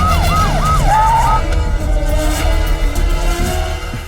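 An ambulance siren wails loudly and close by, its rising and falling tone sweeping repeatedly in the first second and a half before fading into a steady low rumble of traffic.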